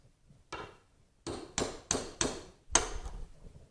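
A hammer taps a part loose from a 1963 Ford Econoline held in a vise, six sharp, close metallic knocks spaced unevenly, the last few quicker together, each ringing briefly before fading.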